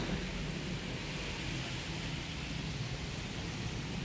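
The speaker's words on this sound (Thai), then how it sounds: "ฝนก็ตก" Steady rain falling, a soft continuous broadband hiss that stays even throughout with no talk.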